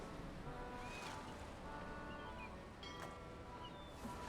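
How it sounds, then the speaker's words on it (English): Ocean waves in the video game Return to Monkey Island, a soft, continuous wash of surf and wind with faint chirps above it, steady and fairly quiet throughout. "Oh, what a great patch of ocean this is."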